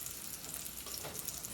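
Yukon Gold potatoes roasting in butter sizzle and crackle steadily as they are turned over in the pan, a soft, continuous frying hiss close by with no talk.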